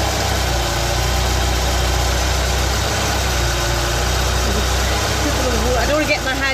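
A Ford Transit autosleeper with a suspected water pump leak idles nearby, a loud, steady low rumble throughout, with a person speaking briefly near the end.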